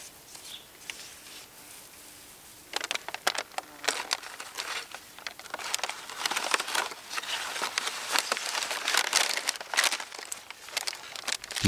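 A maize tassel shaken and bagged in a paper bag gives close, quiet crinkling and rustling, soft at first, then denser bursts of crackling paper through the rest.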